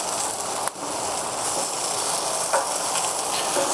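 Chicken legs sizzling on a hot flat-top griddle, a dense, continuous frying crackle with a couple of sharp clicks and scrapes from handling on top.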